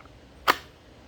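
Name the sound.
pistol clicking into fitted holster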